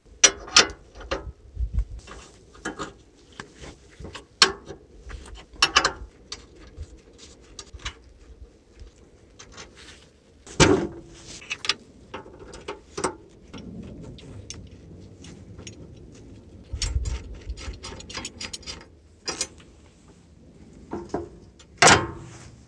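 A wrench works nuts loose on the hitch of a power tiller rotavator, giving scattered metallic ratcheting clicks and sharp clanks at irregular intervals over a quiet background, with no talking.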